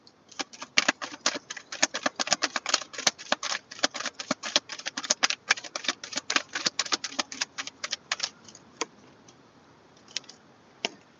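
Tarot cards are shuffled by hand in a rapid flurry of crisp snaps and riffles for several seconds, close and clear, then thinning out to a few scattered taps.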